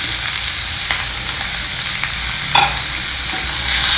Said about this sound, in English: Next, add in the finely chopped onions